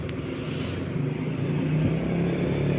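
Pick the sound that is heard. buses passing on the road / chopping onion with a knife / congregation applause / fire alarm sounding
buses passing on the road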